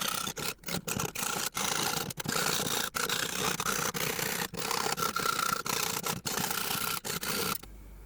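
Hand file rasping back and forth over a small metal manta-shaped pendant, close and steady, with brief gaps between strokes and a few sharp scrapes, no voices.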